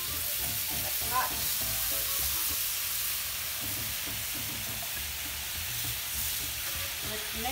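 Red birria sauce sizzles steadily in hot oil in a pan, a close, continuous frying hiss that stays even throughout with only slight variation, no voices over it.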